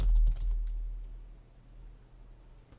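Keystrokes tap quietly on a computer keyboard as a title is entered into a Word document table. The taps are soft and close over a low background hum, and no voice is heard.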